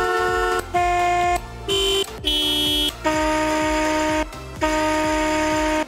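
Minecraft-style car horn in Forza Horizon 5, blaring loud and alone in several sustained honks of varying length and shifting tone, separated by short gaps.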